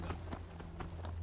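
Horse hooves clip-clop in a steady, moderately quick rhythm in the video game Skyrim, fairly faint over a low background hum, with no talk.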